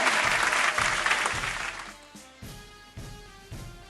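A school audience claps after a karate demonstration by girl students, a loud burst of many hands that fades after two seconds into sparse rhythmic thuds under a musical tone.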